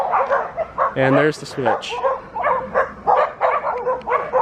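Dogs bark and yip repeatedly nearby while someone speaks briefly over them.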